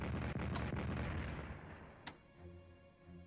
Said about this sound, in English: Heavy artillery apparently does not dent that.